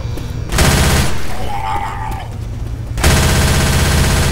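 Sustained automatic gunfire from a machine gun in the Left 4 Dead 2 video game, loud and continuous bursts with a short lull in the middle before the firing resumes at full intensity.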